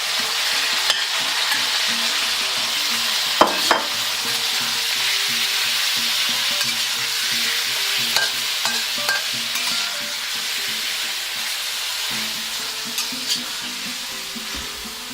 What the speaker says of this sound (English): now that the garlic's all nice and burned, you want to put in the beef in there